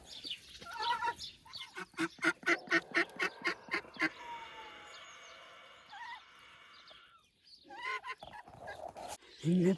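A rapid run of loud nasal quacks from ducks and ducklings nearby, then a rustling lull before more scattered quacking returns.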